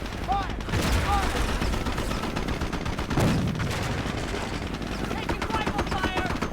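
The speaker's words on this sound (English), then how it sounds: "Taking rifle fire!" Rifle and machine gun fire from the video game Company of Heroes rattles in dense, continuous bursts with a louder blast near the middle, while voices call out over the battle.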